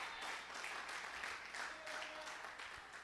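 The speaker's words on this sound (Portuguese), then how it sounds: "Você pode aplaudir." A church congregation applauds during a Portuguese-language prayer service, a continuous wash of clapping with faint voices mixed in beneath it.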